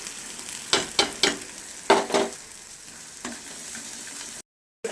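Bottle gourd peel paste fries in a hot pan with turmeric and salt, a steady sizzle broken by several sharp spattering crackles and a stirring scrape, close and fairly loud, cutting off abruptly near the end.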